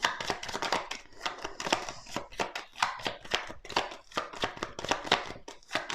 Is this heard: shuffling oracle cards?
yes